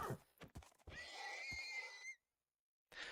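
A Minecraft horse gives a clear, mid-pitched whinny with a wavering tone, held for about a second, set between short game clicks and followed by a pause of silence.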